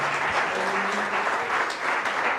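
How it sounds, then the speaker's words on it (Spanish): A church congregation claps for the Lord, a thick, continuous wash of many hands applauding together, loud and sustained with faint voices mixed in. "Démele un aplauso más fuerte al Señor"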